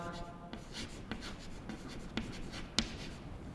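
A pen scratches across paper up close, with soft, quiet strokes and a few sharper taps as it lifts and lands.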